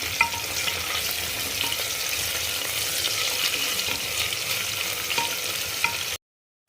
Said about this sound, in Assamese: আদাখিনি অকণ ভাজি ল'ম